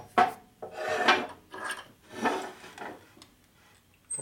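A drill bores out a rivet head during an engine rebuild on a 1977 1000cc Harley-Davidson Sportster Ironhead street tracker. It comes as several close rasping, grinding bursts separated by short pauses.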